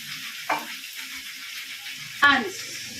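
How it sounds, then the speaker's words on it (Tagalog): A pork steak fries in a pan with a steady, fairly loud sizzling hiss, broken by two sharper clatters or spatters. "I'm cooking now a pork stick"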